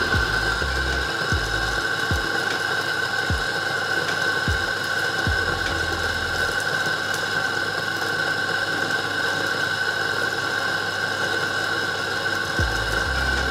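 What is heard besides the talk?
home coffee grinder grinding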